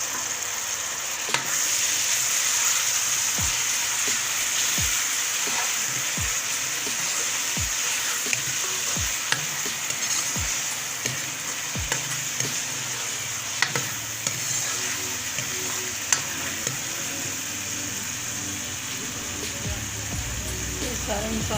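Tomato paste sizzling and frying in a pan for turnip curry, with a spoon scraping and stirring in a steady rhythm of repeated strokes, while someone talks over it.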